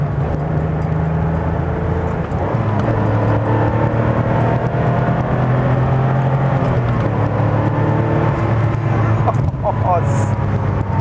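A 1989 Porsche 911 Carrera engine hums steadily while driving, a low continuous drone under road and cabin noise, with someone talking over it.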